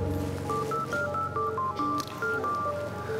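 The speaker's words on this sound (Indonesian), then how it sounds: "Saya angkat telepon sebentar ya" A telephone rings in a domestic drama scene, its electronic ringtone playing a quick run of short, clear beeping notes at moderate volume over a faint background.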